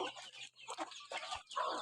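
Chickens clucking at evening feeding time on a farm, several birds calling close by in overlapping bursts, with a louder cluck near the end.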